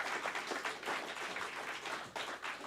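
Audience applause at a country music opry show, a fairly quiet but steady patter of many hands clapping together with no voices over it.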